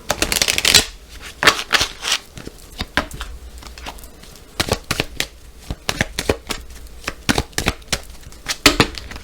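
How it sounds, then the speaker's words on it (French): A deck of oracle cards is shuffled and cut by hand, producing loud close riffling bursts and quick papery slaps in an irregular patter throughout, with no voices. "On va faire une petite coupe aussi pour voir un petit peu la tendance de la coupe de l'oracle."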